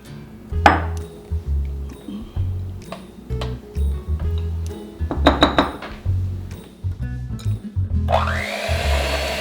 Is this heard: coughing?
no